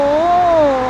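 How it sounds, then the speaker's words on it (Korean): A single loud, drawn-out cat meow, very close, rising slightly then falling away. "아까 고양이 밥 먹는 거 보셨죠?"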